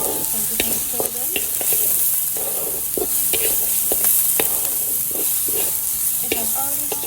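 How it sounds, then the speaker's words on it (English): Chopped ginger and garlic sauteing in a pan, a steady sizzle and hiss with repeated scrapes and clinks of stirring, close and continuous. "So I'm just gonna saute them until they are nice and brown."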